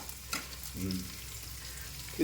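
Onion, green chili and curry leaves sizzle in hot oil for wheat rava upma. The frying hiss is soft and steady, with a few brief stirring scrapes close by and no talking.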